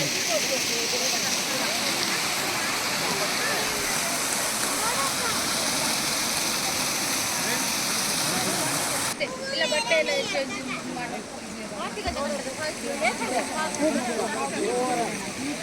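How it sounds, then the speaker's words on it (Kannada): A waterfall roars steadily as a loud, broad rush of water throughout, while people and children talk and call out over it nearby. "ಇಲ್ಲಿ ನೋಡಿ ಫಾಲ್ಸ್ ಹೆಂಗಿದೆ?"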